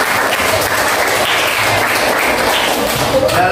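Classroom audience of students applauding at the end of an academic coaching session: loud, continuous close clapping from a group, with faint voices mixed in.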